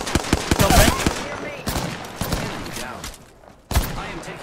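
Gunfire in the shooter Apex Legends, rapid loud bursts of shots at the start, scattered shots and softer firing after, then a final sharp burst, with some talking faintly mixed in.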